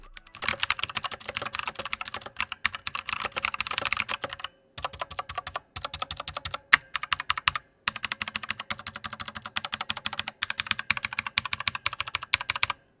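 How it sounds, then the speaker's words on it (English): Someone types steadily on a Bopower KB1 mechanical keyboard fitted with clicky Outemu Blue switches. Dense, sharp keystroke clicks run in bursts with brief pauses between them, close-miked and without any speech. "I personally like Otemba Blue switches, so the clicky tactile experience was overall pleasant for me."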